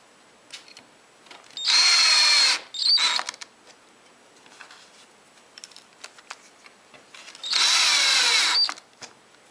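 Two short bursts of a power drill whirring at close range while installing hinges on a workshop cabinet, separated by quieter handling clicks and small tool noises.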